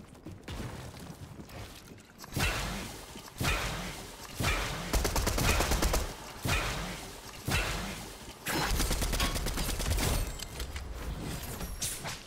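Gunfire in the video game Fortnite, repeated sharp loud blasts in irregular bursts over constant game noise, no voices present.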